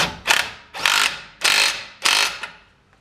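Four loud bursts of a buzzing power tool, each lasting about half a second, separated by short pauses, close by, during a front CV axle install on a Dodge Ram.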